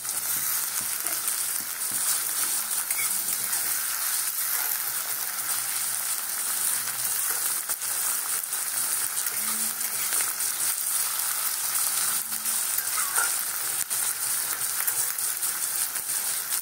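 Onions and whole chilies fry in a pan, a loud, constant hissing sizzle with crackle that runs unbroken throughout, close up and with no talking.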